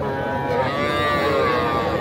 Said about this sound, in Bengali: এটা ষাঁড় বাচ্চা।